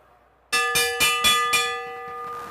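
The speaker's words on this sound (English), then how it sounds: "We're going to hear the bell when they come around." Bell rung for the final laps of a track bike race, five quick loud clangs in a steady rhythm, the last ones ringing out and fading.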